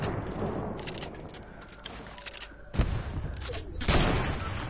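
Sniper gunfire in a video game: a few sharp, booming shots crack out at intervals over a continuous background of distant gunfire and game noise, with one especially loud report near the middle and another close to the end.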